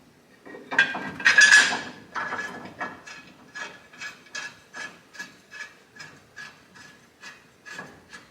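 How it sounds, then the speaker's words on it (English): A ratchet clicks in steady rhythmic bursts while tightening a bolt on the front end of a Toyota Tacoma, each burst a crisp close-up pawl chatter, preceded by a brief heavier metallic rattle of handling. "Tighten it down a hair with the ratchet."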